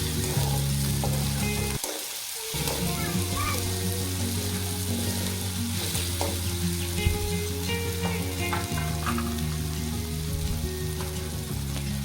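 Tomato, onion and green chillies fry in oil for street-style masala Maggi, a loud, dense sizzle that holds steady throughout, briefly dipping once near the start and mixed with occasional stirring scrapes.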